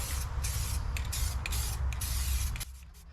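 Aerosol spray can painting a red car interior, a close hissing burst of spray with short pulses that stops abruptly near the end, leaving faint background hum.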